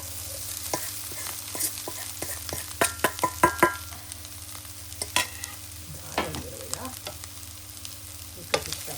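A spice mix of mustard, ground mustard, salt and pepper goes into greens for mallum and is stirred in a pan, with a soft sizzle under a run of close, irregular clinks and scrapes of a spoon against the pan over a faint hum.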